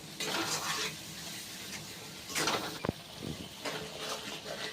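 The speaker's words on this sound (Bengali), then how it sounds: "দিয়ে তেলটাকে কিন্তু একটু বেশ ভাজা ভাজা করে নেব।" Oil with chilli powder and cumin powder frying in a pan for a Bengali poi chhyachra dish, a steady broadband sizzle with metal utensil clinks and stirring scrapes, fairly close, no talking.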